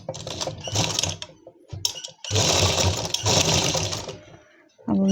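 A sewing machine stitches the hem of an Afghani-style palazzo in loud, close bursts: a long run, a brief pause, a short spurt, then a sustained stretch, ending with a quick restart.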